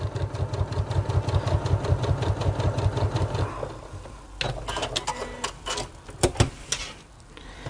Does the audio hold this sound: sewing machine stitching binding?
yes